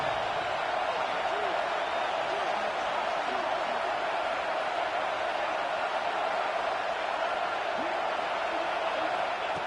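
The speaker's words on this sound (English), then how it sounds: "here comes the noise. This crowd is trying to inspire this defense to make a big red zone stop" A college football video game stadium crowd roars as a steady, dense wash of noise during a red zone defensive stand. A commentator's voice sits under it.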